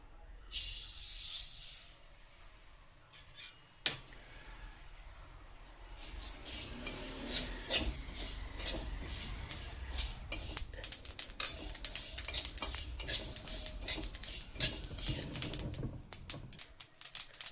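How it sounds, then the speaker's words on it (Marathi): Sesame seeds dry-roasting in a pan for Makar Sankranti til poli, stirred with a spoon: continuous fine crackle and patter with repeated scraping strokes against the pan, fairly close and steady, with no talk. "आता आपण ते काढून घेऊ आणि तिळ भाजूयात"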